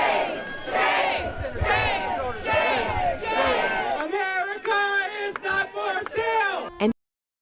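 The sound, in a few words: crowd of protesters outside a gala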